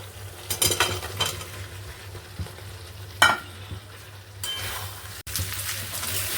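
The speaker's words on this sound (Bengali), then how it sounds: "এঁচোড়া আর আলু দিয়ে কষানো হয়ে গেছে" Young jackfruit and fried potato being stirred in oil with spices in a pan: a steady low sizzle with a few scraping, clinking spatula strokes, close and fairly quiet, no voices.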